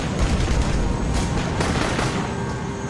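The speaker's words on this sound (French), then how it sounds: "Les balles perforantes de leur M16A2 transpercent les fines huttes de terre et de bois." M16A2 rifles firing armor-piercing rounds in a jungle raid reenactment, a dense, continuous roar of overlapping gunfire and booms with no pauses between shots.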